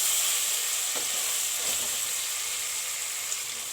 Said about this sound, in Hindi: और इसके साथ ही हम ये गोश्त उबाल किया हुआ डाल देंगे ऐसे। ये भी अच्छे से आपने ऐसे साथ ही भून लेना है।